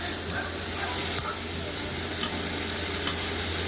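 Pieces of ash gourd fry and get stirred in a pan, giving a steady close sizzle with occasional scraping stir strokes and no talk over it.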